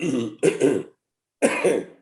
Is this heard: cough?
yes